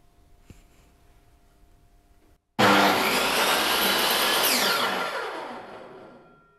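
A table circular saw in a workshop is switched on with its green start button, its motor starting abruptly and whining loud and steady for a few seconds, then slowly spinning down after being switched off.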